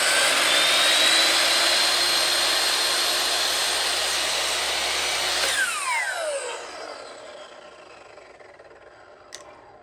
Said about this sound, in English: go ahead and cut this at a 45-degree angle